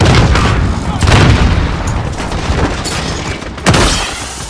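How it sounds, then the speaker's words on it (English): A grenade explodes in a first-person shooter video game with a deep boom, among repeated heavy blasts and gunfire through a loud, dense battle din, while a player talks over it. "Throwing grenade"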